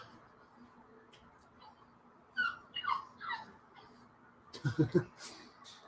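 A dog makes a few soft whimpering, squeaky whines in short bursts, fairly close but quiet, over a low indoor background, followed by a brief louder snuffling burst.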